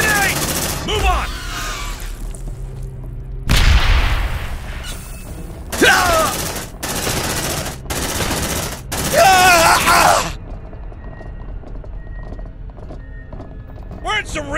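In the video game Aliens Dark Descent, a grenade blast and heavy gunfire erupt in loud bursts of booming rattles and rapid shots, separated by quieter gaps, with voices shouting over the combat.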